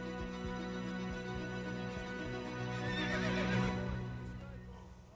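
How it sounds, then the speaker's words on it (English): A horse neighs in a Netflix Bridgerton period drama scene, a drawn-out whinny rising in the middle over a steady background bed, with a few soft hoof knocks and no talk. "which is the sound of the horse"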